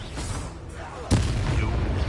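A Confringo fire spell in a Hogwarts video game bursts in a sudden loud blast that jumps out partway through, followed by a rumbling roar that carries on to the end.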